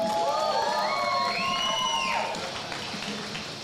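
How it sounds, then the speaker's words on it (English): Crowd at a BKFC 28 bare knuckle fighting weigh-in cheering and whooping as the fighters are introduced, loud excited shouts and high whistles that fade toward the end. "As you can hear, the crowd very excited."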